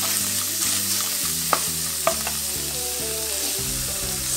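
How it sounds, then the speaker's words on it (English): Spicy tuna sisig being stirred and fried in a pan, a continuous sizzle with repeated clanks and scrapes of a spatula against the metal, close and busy throughout. "So I'm gonna mix everything here in this pan and divide it later."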